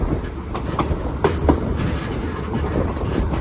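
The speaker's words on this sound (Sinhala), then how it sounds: "තාම නැහැ කෝච්චි එනවා" A train rolling through a railway station, with a loud, continuous rumble and rhythmic clickety-clack of wheels over rail joints and a few sharper metallic clanks.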